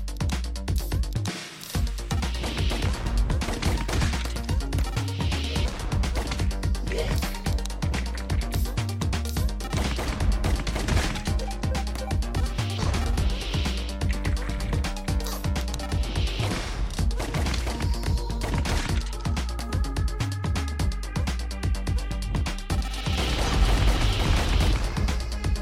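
Pistol gunfire in the retro action game Operation Hardcore, rapid repeated shots and impacts over constant game music and effects, with no talking.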